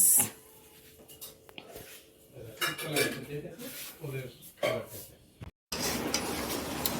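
Meat being sautéed (kashano) in a pan in a home kitchen, with metal pots, pans and cutlery clattering and scraping in bursts throughout, close and fairly loud, while voices talk intermittently in the background.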